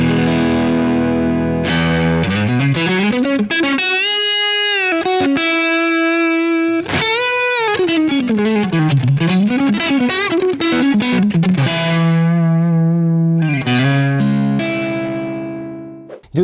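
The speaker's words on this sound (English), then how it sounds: "I will play a similar phrase on a top shelf guitar, a custom-made Strat with Eric Johnson pickups" A custom-made Stratocaster electric guitar with Eric Johnson pickups, played into a Marshall Plexi, plays a distorted lead phrase of held bent notes, slides and vibrato, loud and alone, fading at the end.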